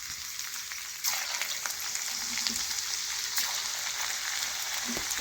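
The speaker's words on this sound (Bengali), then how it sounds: "আর শুকনো হয়ে যাওয়ার পর দেখুন আমি কড়ার মধ্যে তেল দিয়েছি, আর তেল দিয়ে দেখুন আমি ভেজে নিচ্ছি।" Potato chips frying in hot oil in a wok give a steady, close crackling sizzle that swells after the first second and holds with small pops throughout.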